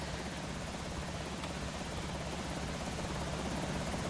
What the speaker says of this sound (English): I'm gonna be having an issue with this chopper for a bit